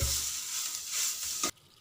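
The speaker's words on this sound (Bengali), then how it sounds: "2-3 মিনিট ধরে মিডিয়াম আঁচে আলু সমেত কষে নিচ্ছি।" Mashed boiled potatoes fry and get stirred in a pan over medium heat, a loud, even sizzle with a few scraping stirs before the sound drops away abruptly at the end.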